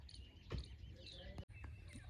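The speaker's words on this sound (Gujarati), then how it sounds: "જો અત્યારમાં વાડીમાં મસ્ત અવાજ આવે છે પક્ષીનો" Faint morning bird chirps and insect trills drift across a farm field, soft and distant against a quiet background.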